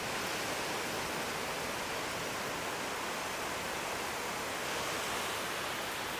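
Heavy rain pours down in a dense, continuous hiss, steady and enveloping from start to finish with nothing else audible.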